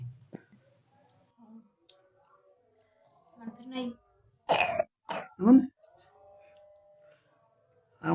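A person with a cough coughs and clears their throat indoors during an evening meal at home, giving a quick cluster of three or four sharp, close coughs between quiet stretches. Someone speaks briefly around them.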